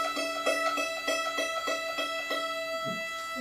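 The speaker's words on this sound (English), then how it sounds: "then there's an onboard violin tuner, and this will sound like this." An onboard violin tuner sounds a sustained reference tone, pulsing in a steady repeated rhythm of short notes, clear and fairly loud with no talking.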